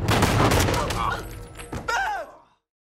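Gunfire rings out in a zombie film scene where a family shoots a woman, a loud close volley of several shots with a booming tail, followed by a short cry before fading to silence.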